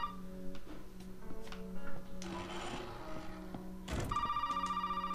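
A telephone rings repeatedly in the Resident Evil 7 video game, a steady electronic ring with regular pulses, fairly close, alone with no talking over it.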